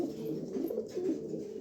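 High-quality pigeons held for sale coo softly in a steady low murmur, faint and without talk.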